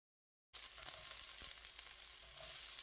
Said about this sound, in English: In goes the onion.